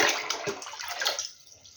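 Water pours and splashes into a jar of tomatoes being filled with brine for pickling, a short close trickling burst that tapers off quietly.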